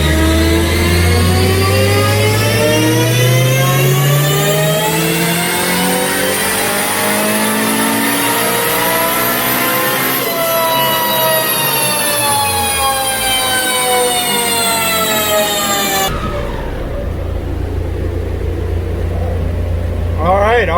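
A turbocharged 2006 Honda Civic Si on its stock motor with a PRL bolt-on turbo kit and 62 mm turbo revs up in a long, loud climbing whine, dips, climbs again, then cuts to a low idle hum, with voices faintly underneath.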